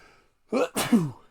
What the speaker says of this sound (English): We got a sneeze coming.